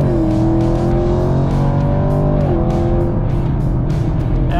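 A 2023 Chevrolet Camaro LT1 V8 accelerates hard up an interstate acceleration lane, loud engine roar climbing steadily in pitch, briefly dropping at a gear change, then rising again from inside the cabin.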